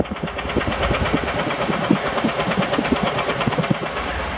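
A Honda car engine idles roughly from a spark plug misfire, close up, with an uneven, knocking chug that stutters at an irregular rhythm throughout and no voices.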